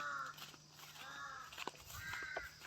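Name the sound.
crows cawing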